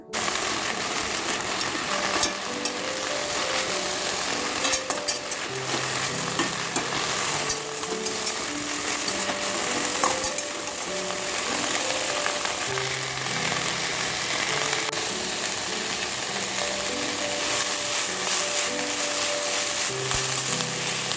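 Curry leaves, mint and coriander sauté in a hot pan with a steady, close sizzle and light crackle that runs unbroken for about twenty seconds, with no talking.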